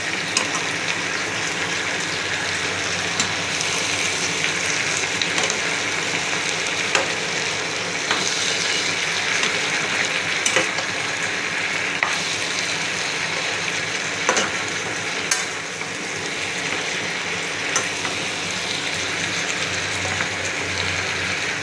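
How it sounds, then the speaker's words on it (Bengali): Steady, dense sizzling of mixed vegetable curry with Malabar spinach frying in a pan, tempered with cumin, ginger, green chilli and dried red chilli, with occasional stirring scrapes, close and continuous without speech. "দেখো আজকে একটু পুঁই শাক দিয়ে সব সবজি দিয়ে একটু তরকারি করছি"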